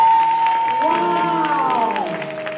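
Applause from a church audience at a gospel music event rises for young performers, steady dense clapping under sustained singing or organ tones.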